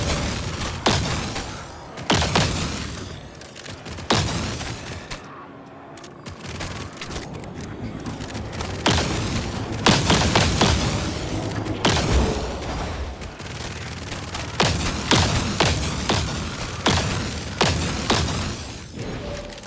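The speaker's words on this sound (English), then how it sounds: "Them exploding is just very satisfying." Enemies blowing apart in the cel-shaded bullet-heaven game Grind Survivors: a relentless stream of loud booming blasts and thuds, bursting in rapid clusters with brief lulls, close and dense throughout.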